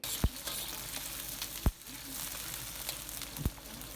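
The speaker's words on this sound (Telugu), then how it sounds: "ఈ ఆనియన్స్ పచ్చిమిర్చి కూడా వేసేసి ఫ్లేమ్ హైలోనే పెట్టుకొని చేసుకోవాలి మనం నూడిల్స్ అనేది" Onions and green chillies frying over a high flame for spicy veg Schezwan street-style noodles, a steady broadband sizzle with three sharp spatula clanks against the pan.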